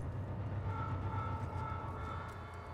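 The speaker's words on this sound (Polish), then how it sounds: "Czego ty trąbisz" Vehicle horn blaring in the Mad Max video game, a steady sustained honk held over a loud continuous engine rumble for several seconds.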